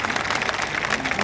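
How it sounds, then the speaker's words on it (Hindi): An audience at a political gathering in Haryana applauds a welcomed guest with dense, continuous clapping throughout the short stretch and a faint murmur of voices underneath. "जोरदार तालियों से उनका स्वागत कीजिए"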